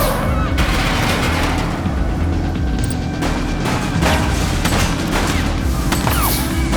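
Dense gunfire from a police chase shootout in the video game The Precinct, loud and close, with overlapping shots and rumbling booms running without a break beneath a loud drone.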